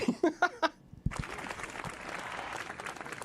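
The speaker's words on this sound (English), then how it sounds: "Give me an applause for that" A call-in show audience breaks into applause and scattered cheers after a brief spoken voice, the clapping rising suddenly and continuing at a moderate, steady level.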